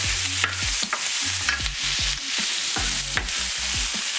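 Garlic, onions and green onions fry in a pan with a constant loud sizzle, while a utensil stirs and scrapes in repeated strokes roughly every half second, close and with no talking.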